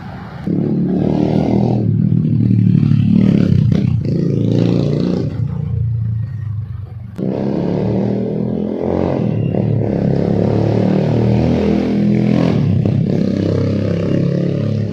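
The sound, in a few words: upgraded Yamaha motorcycle exhaust revving, 183cc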